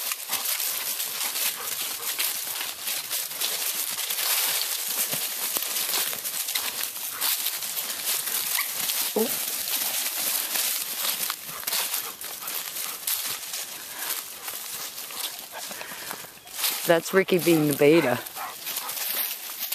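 Dogs scuffle and vocalize as they discipline a small puppy, with growls and yelps rising into a louder burst near the end, all under ongoing conversation from nearby people.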